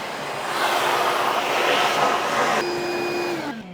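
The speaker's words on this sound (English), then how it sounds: "All right, I'm gonna be vacuuming." A vacuum cleaner runs steadily with a loud, broad whooshing roar, its motor pitch shifting slightly before it winds down at the end, with no talking.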